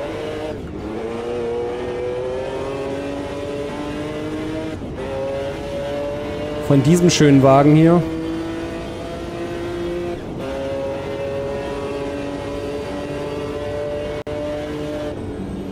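A V12 race car engine in the racing game Automobilista 2 drones steadily with a sharp high-revving burst midway, while someone talks over it.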